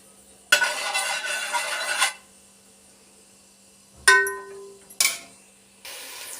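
Lightly crushed fenugreek seeds fry in oil for a fish curry, giving short bursts of close sizzling hiss broken by a few sharp clanks of a utensil against the pan. No one talks.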